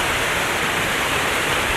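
A small waterfall in the Montreal Botanical Garden gives a steady, full rushing roar of falling water. It is close, loud and unbroken, with no voices over it.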